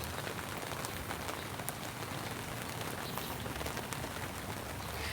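Steady rain falls on a rural farm, heard from under a hut's roof. The patter is dense, even and continuous, with a few sharper drips close by and no voices.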